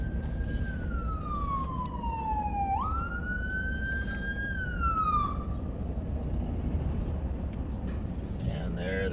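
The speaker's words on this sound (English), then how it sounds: "Pull over here because there's an ambulance coming behind me." An ambulance siren wails and shifts pitch as it passes on the road behind a car, loud and steady over heavy road and engine rumble, then fades out.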